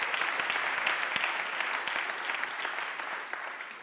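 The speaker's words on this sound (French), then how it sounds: "Applaudissez-les, on remercie aussi les équipes Citeo qui permettent cela." Audience applause at the Circular Challenge recycling innovation event, a dense, bright wash of many clapping hands filling the room, sustained and even before easing off slightly.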